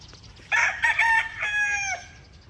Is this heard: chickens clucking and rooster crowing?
yes